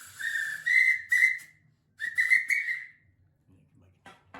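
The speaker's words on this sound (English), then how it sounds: "you'd hear a two-tone whistle" A GCR railway two-tone whistle is blown in several short and longer blasts, close and fairly loud, with brief gaps between, then faint handling noise.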